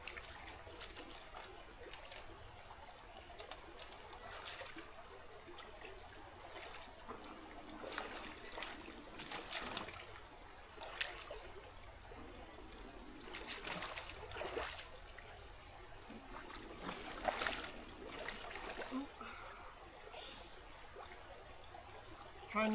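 Creek water flowing and trickling steadily close by, a soft continuous babble with occasional brighter splashes.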